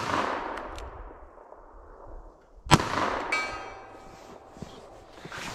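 A single loud, close gunshot from an S&W Model 69 Combat Magnum revolver firing a PMC round at an outdoor range, a sharp crack with a brief rumbling tail amid faint background noise.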